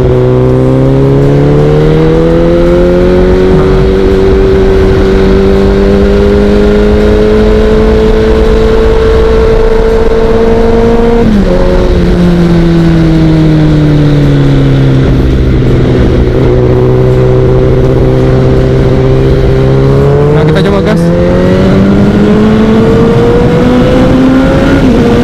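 A Kawasaki ZX25R motorcycle engine revving hard and loud up close, its high-pitched four-cylinder whine sustained and rising and falling through several long throttle sweeps, with a brief dip near the middle.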